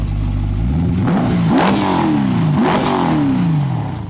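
A DeLorean fitted with a custom LS3 V8 conversion, still cold from starting, revs loudly twice over a rumbling idle, each blip rising and then falling back, close to the microphone.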